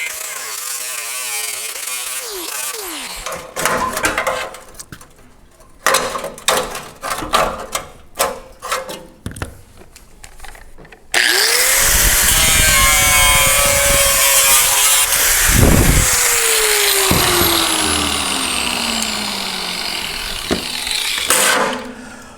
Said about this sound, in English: with a combination of my cutting wheel, my drill, miscellaneous things, I'll go ahead and get this piece out of here